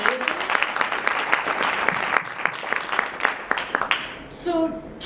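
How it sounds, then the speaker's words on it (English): Audience applause fills the room as a crowd claps steadily at an event, dense and fairly loud throughout, tapering near the end as a voice begins speaking over the fading claps. "give a round of applause"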